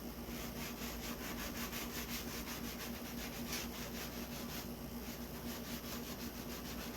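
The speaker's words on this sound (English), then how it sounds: "I'll have to sand that then, won't I?" Sandpaper rubs back and forth along the edge of a wooden doorhanger made from a pizza pan, a rhythmic, close scratching that runs continuously with even, repeated strokes.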